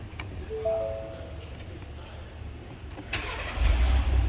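A 2018 Ford F150 pickup cranks and starts, its low engine rumble building and settling into a steady idle at the end, with a brief tonal chime early on and faint background noise.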